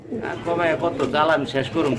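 Pigeons at a bird market cooing in soft, rolling bursts, close by, with voices talking among them.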